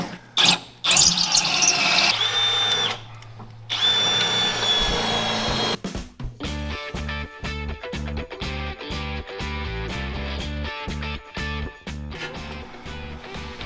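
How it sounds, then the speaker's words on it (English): A drill bores drain holes in metal parts of a rat rod wrecker, with loud, close whining bursts that start and stop, then a rhythmic mechanical clatter in a workshop. "We're just putting drain holes in all these so they don't collect."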